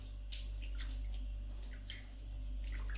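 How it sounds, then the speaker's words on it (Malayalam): Water sprinkled by hand onto freshly grated coconut in a home kitchen, ahead of squeezing out coconut milk for coconut oil, sounds as soft splashy patters and light drips over a steady low hum, with no talking. "ശകലം വെള്ളമൊക്കെ തളിക്കണം."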